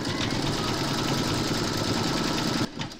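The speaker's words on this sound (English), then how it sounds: "Pop your hoop into your machine and stitch round number six to secure it." An embroidery machine stitches a design into hooped fabric with a fast, steady mechanical chatter, loud and close, until it stops abruptly near the end.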